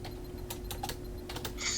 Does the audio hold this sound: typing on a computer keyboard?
yes